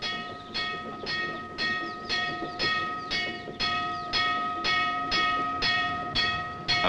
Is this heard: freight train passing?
yes